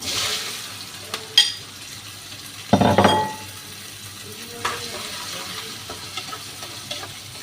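Spices temper in hot oil with a soft, continuous sizzle and frying hiss, punctuated by a louder burst as ingredients hit the pan and occasional clinks of utensils against cookware.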